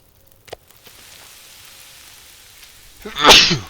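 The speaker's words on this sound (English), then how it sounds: "Sneeze almost made me eat that." A single loud, sharp sneeze close by at the end, after a quiet stretch with a faint tap near the start, in the video game The Long Dark.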